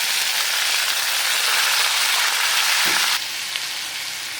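Onions sautéing in a pan with crushed garlic and curry leaves after mustard seeds have popped, giving a loud, dense, continuous sizzle that drops a little in level near the end.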